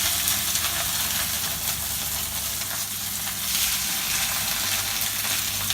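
Salmon laid skin side down in a hot pan with olive oil, a steady loud sizzle and frying hiss close up, constant throughout with no talking.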